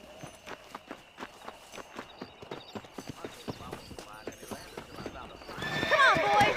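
A horse in the video game Red Dead Redemption gallops with a quick, even clip-clop of hooves, then a loud whinny and scuffling near the end. The sound is moderately quiet, and a voice speaks softly underneath.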